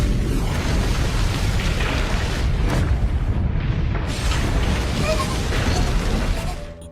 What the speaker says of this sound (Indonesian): Terjadi ledakan besar